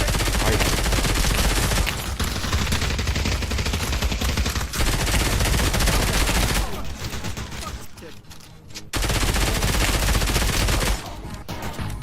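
Gunfire in a video game, with the shooter hitting teammates: dense, continuous rattling bursts of rapid shots, loud and close, cutting off briefly a few times, with a voice talking over it.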